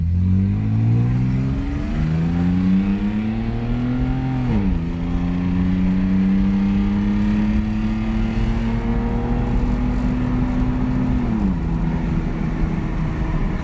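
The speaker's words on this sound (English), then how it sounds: "cutting into the exhaust a little bit more changed the sound actually really nicely" A BMW E36 with a cut exhaust revs loudly and up close, its engine note climbing in two long pulls with a quick drop and shift between them and a sharp fall at the end, with no voices over it.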